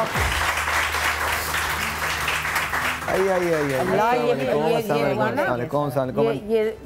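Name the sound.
audience applause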